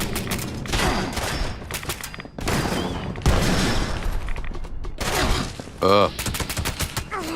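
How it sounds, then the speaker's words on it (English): Grenade blasts and heavy gunfire in Fallout 76 multiplayer combat come as dense, loud, rapid bursts with brief gaps, while a player grunts close to the mic. "Someone's throwing grenades."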